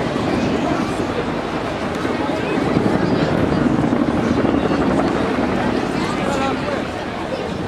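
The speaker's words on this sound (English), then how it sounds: "Really good opportunity to see the tandem rotors of the Chinook and hear that distinctive blade slap." A Chinook tandem-rotor helicopter performing at an air show gives off a loud, continuous, heavy rotor roar that holds steady and close throughout, swelling slightly midway.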